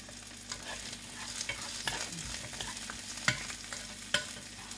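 Sautéing in a pan while making a coconut chickpea curry, a close, soft frying hiss broken by repeated scraping stir strokes and occasional clicks of a utensil against the pan.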